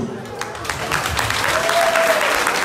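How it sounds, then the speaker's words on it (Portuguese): Crowd at a village costume contest applauds the jury, clapping swelling and holding steady as a voice speaks over it. "vá lá uma salvinha de palmas para o júri."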